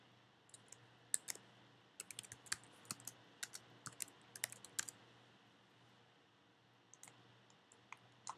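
Computer keyboard typing, quiet close key clicks in an uneven burst with short pauses and a few final taps, no voices.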